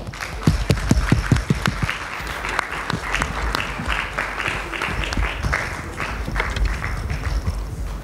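A seated audience at a 2022 HR forum panel discussion claps loudly and steadily to welcome a panelist, with dense, sustained applause filling the hall throughout.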